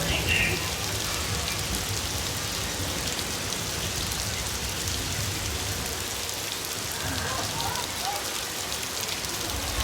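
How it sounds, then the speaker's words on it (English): Artificial rain pours steadily around a Universal Studios Hollywood tram on its 60th anniversary tour, a loud, dense hiss of falling water with faint voices underneath. "listen to the sounds of the rain"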